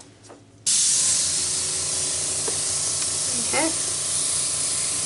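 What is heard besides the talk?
blower blowing air over paint on a small canvas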